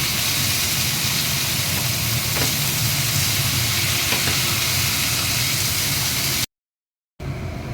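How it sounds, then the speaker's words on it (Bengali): Spiced potatoes frying in a pan with ginger paste give a steady, dense sizzle that runs unbroken and fairly loud for about six seconds, drops into a short silence, then resumes. "খুব সুন্দরভাবে ভাজা হচ্ছে।"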